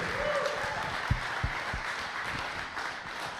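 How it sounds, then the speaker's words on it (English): Applause from an audience at a combat league media day fills the background as a steady, moderate wash of clapping, with a few sharper claps standing out. "We'll just give a round of applause"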